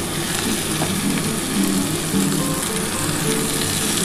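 Fresh spinach hits a hot pan with browned ingredients for a spice-free vegetarian spinach ghonto, giving a loud, continuous sizzle and crackle of frying with faint stirring scrapes throughout.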